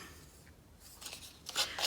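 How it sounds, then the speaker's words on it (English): Closed scissors scrape along the edges of paper to distress them, producing a few short, dry rasping strokes that grow louder toward the end, close up and quiet, with no speech. "I'm actually going to distress these edges with my scissors."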